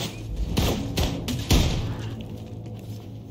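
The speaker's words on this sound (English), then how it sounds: "was that grenade launcher?" Grenade launcher in Wolfenstein II firing and exploding, three or four heavy thuds close together, loud and near.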